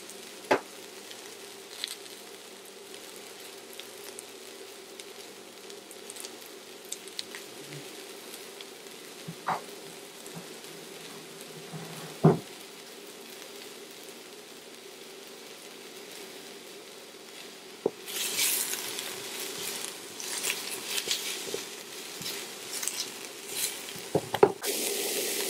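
Vegetables sautéing in a pan at moderate heat, around 350 degrees, for a spicy plant-based rice noodle dish with Anaheim peppers; a steady low sizzle runs throughout, growing brighter and louder near the end with occasional stirring scrapes.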